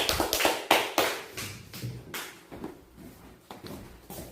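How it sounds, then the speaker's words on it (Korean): A church congregation at a Thursday evening healing service claps in thanks, with a run of sharp, rhythmic claps about three per second that fade gradually. "우리 하나님께 감사 박수 드리겠습니다"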